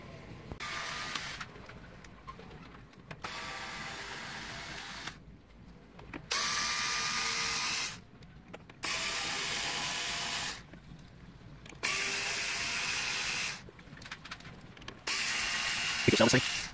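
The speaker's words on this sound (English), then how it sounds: "can we take that off of there real quick with the screw gun, possibly?" Screw gun backing screws out of a Traxxas Unlimited Desert Racer RC truck, with repeated whirring bursts of a few seconds each separated by short pauses, close and fairly quiet, with faint talk in the background.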